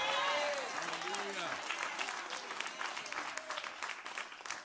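A church congregation claps in a steady, fairly loud wash of applause that slowly tapers, while a voice cheers over it.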